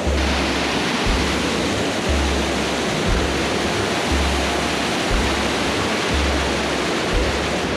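Jumbo Creek in Alaska rushes in a constant, dense roar, tumbling fast over rocks nearby, steady throughout with no voices.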